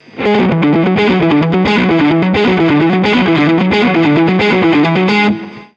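Heavily distorted electric guitar plays fast, even picked notes in a repeating pattern, with slightly stronger accents on each beat, loud and close.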